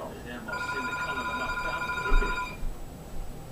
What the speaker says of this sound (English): stinking phone ringing. Wonder who that is.